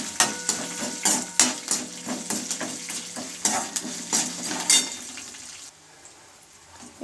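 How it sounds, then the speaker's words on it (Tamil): Round chillies and slit green chillies roast in a pan of hot tempering oil, giving a steady close sizzle broken by repeated scraping stir strokes that stop near the end, leaving a quieter hiss. "இது கூட குண்டு மிளகாய், கீறி வச்ச பச்சை மிளகாய் அதையும் போட்டு நல்லா நம்ம வறுத்துக்கணும்."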